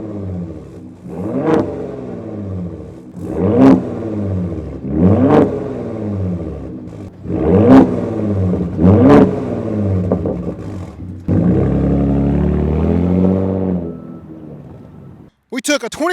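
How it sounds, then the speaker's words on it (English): A 2022 Ford Raptor pickup on 37-inch tires revs its exhaust repeatedly in sharp bursts, each rising and falling, then holds a longer loud rev before cutting off. "Let's start off with a little exhaust note running through our sequence of normal,"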